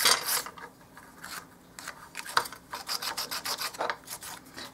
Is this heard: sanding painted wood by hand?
yes